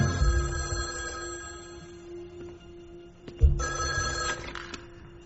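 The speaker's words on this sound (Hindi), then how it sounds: "जनाब आपके लिए फोन है।" A telephone rings at a hotel, an electronic trilling bell that sounds in two bursts with a short pause between, fairly near and unaccompanied by talk.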